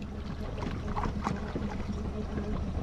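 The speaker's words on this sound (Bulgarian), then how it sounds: "Чакай сега, ще спра мотора." An outboard boat motor runs steadily on a river during a fishing trip, a continuous close drone with water and wind noise that holds even throughout.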